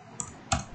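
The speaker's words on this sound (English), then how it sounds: "So narration I am typing" Two quick keystrokes on a computer keyboard while entering an accounting voucher, soft clicks close by against a faint background hum.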